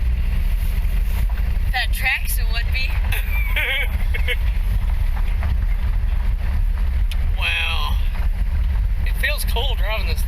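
A 1949 Chrysler being driven after sitting more than 60 years, with a loud, constant engine and road rumble under heavy wind buffeting while people talk over it throughout.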